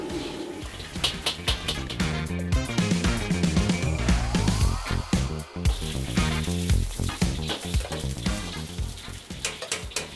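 Crab stir-fried in a wok with salt-and-pepper seasoning, five-spice, scallion, chopped chili and golden fried garlic, giving a loud, continuous sizzle and fry with scraping and clatter of the wok throughout, no talk.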